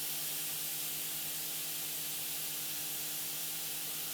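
A Mr Hobby Procon Boy FWA Platinum double-action airbrush with a 0.2 mm nozzle spraying, a steady, even hiss of air held at constant level close to the microphone throughout, with no talk.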